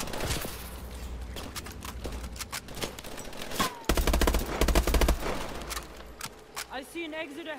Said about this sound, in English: Why are they shooting me and not you guys?